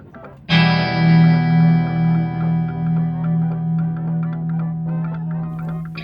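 A strummed guitar chord rings out abruptly and sustains with a wavering, effected shimmer, followed by light, scattered picking over the lingering tone.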